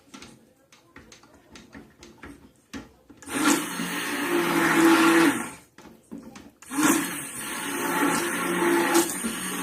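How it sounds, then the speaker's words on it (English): A stick blender whirs through cold process soap batter in two sustained bursts, each several seconds long, after some light rubbing and handling noises. "I'm ready to give that a good mix with the stick blender"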